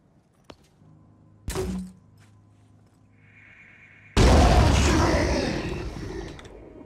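A grenade detonating in Phoenix Point: after a few small clicks and a short thump, a sudden loud, close blast erupts and rumbles away over a couple of seconds.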